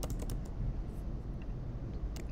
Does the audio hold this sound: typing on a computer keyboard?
yes